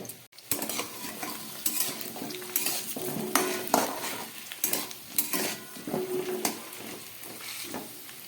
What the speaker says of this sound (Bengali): ওইদিকে কচু আলু ভাজা হচ্ছে